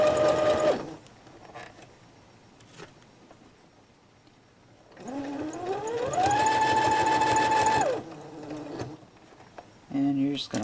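A sewing machine stitches a fabric face mask in a steady, close, whirring run of several seconds, with a shorter burst near the start and another at the end. Quiet talk comes in the pauses.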